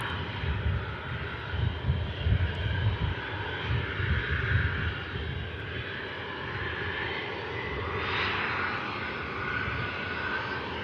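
A Cessna Citation XLS business jet, German registered, at Manchester Airport, its steady engine roar rumbling on with a low, fluttering rumble and a brief rising whine midway, heard alone with no voices.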